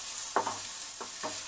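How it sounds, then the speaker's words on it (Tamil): Onions sautéing in a pan for tomato chutney, a few short scraping stirs over a steady low sizzle, close and fairly quiet. "வெங்காயம் அந்தளவுக்கு வதக்கிங்க."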